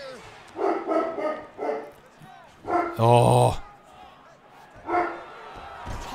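A dog barks a few times in a living room, loud bursts mixed with speech and video game tournament commentary.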